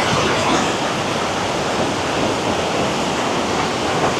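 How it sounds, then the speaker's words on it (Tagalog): A tall, wide waterfall in Prosperidad, Agusan del Sur, pours with uneven, crisscrossing streams of water, giving a loud, constant broadband roar that fills the whole clip with no talk over it. "Mataas, malapad, at parang sali-saliwa yung bagsak ng tubig."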